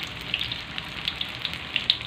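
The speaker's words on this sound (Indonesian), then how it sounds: "Dan ini tempenya lagi saya goreng ya" Tempeh frying in hot oil gives a steady close crackling sizzle, with scattered sharper pops over a continuous hiss and no talking.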